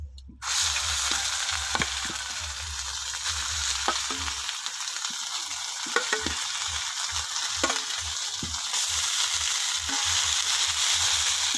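Mashed green pea paste fries and sizzles in a hot kadai with asafoetida, a steady loud frying hiss broken by repeated scraping stirs of the spatula, close up with no talking.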